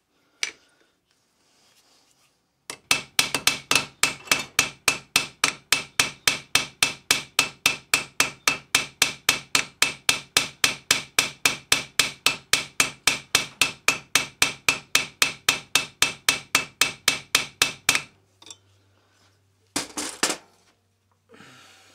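Rivets are hammered into the steel chassis frame of a small model steam locomotive with a long, fast, even run of sharp metallic taps, close and clear, followed by a few final strikes after a pause.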